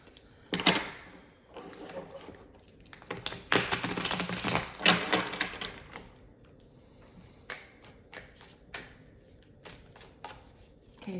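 Tarot cards being shuffled by hand, with irregular bursts of riffling and tapping, some louder flurries and quieter taps spread over several seconds.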